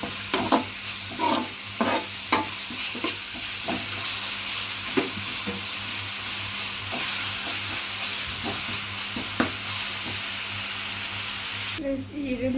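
Onions frying in a pan for a Kannada mutton gravy, stirred with repeated scraping strokes over a steady broadband sizzle; close and moderately loud, with a low hum underneath.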